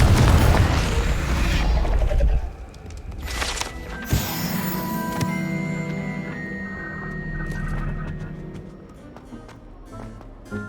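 A Confringo blasting spell detonates in the Hogwarts Legacy video game, a loud booming burst with rumbling low end, followed by a fainter secondary blast and lingering magical tones and ambient game music.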